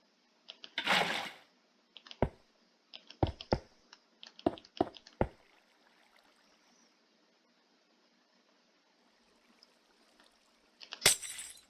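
Water buckets being placed in Minecraft Bedrock, several short sloshing pours and clicks in an irregular sequence, quiet and close, with a final splash after a stretch of near silence.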